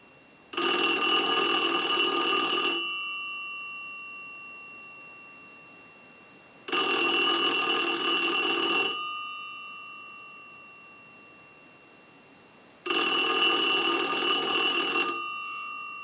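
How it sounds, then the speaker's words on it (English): An Automatic Electric three-slot payphone bell rings in three long, loud bursts, each about two seconds, separated by silent pauses and fading tails. "send a ring cycle like you were getting a call"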